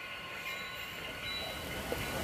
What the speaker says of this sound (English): They're going to go park their locomotive over there.